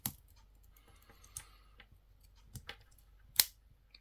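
Small metallic clicks and snaps, sparse and close, as the scissors of a small Victorinox Swiss Army pocket knife are worked open in a quiet room.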